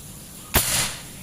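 A single sharp PCP air rifle shot from a custom folding stainless-tube rifle with a 3000 psi reservoir, a crisp close crack with a brief airy tail, standing alone against quiet background.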